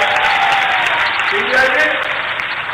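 Rally crowd in Gairatganj, Raisen, clapping to welcome a political leader, a dense, continuous wash of applause throughout with a faint voice calling over it.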